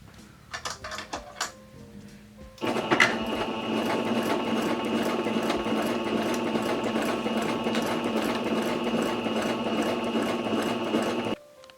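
Sewing machine stitching the raw-edged seams of a waxed canvas foraging bag, a steady continuous mechanical whir running alone for about nine seconds after a few short bursts of handling and starts.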